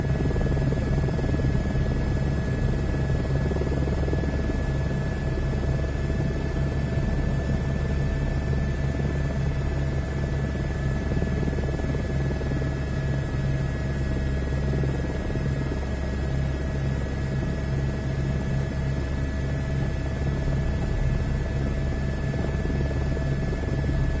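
Steady, loud drone of a helicopter's rotor and engine in a flight simulator game, holding a constant pitch with a buzzing hum throughout, with no talking.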